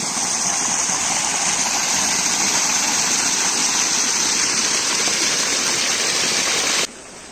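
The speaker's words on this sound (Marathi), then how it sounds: "पूर्ण ओव्हरफ्लो झालाय पाणी हे पण पॅक केला पण तिथून पण या पाणी यायला लागलं आहे" Water pours steadily over a newly built stone check dam, a loud, continuous rushing roar close by that holds unbroken for about seven seconds, then drops away abruptly near the end.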